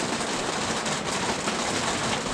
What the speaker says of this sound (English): it's actually still raining outside